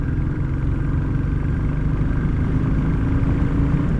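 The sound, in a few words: motorcycle exhaust, throttle opening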